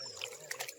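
Spring water trickling out of a forested hillside, a faint, steady thin flow with a few brighter splashy drips.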